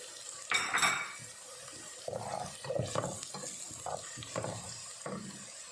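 Garlic and ginger browning in a pan for daal maash, heard as a faint sizzle under scraping and stirring clatter of a utensil against the pan, close by with no talking.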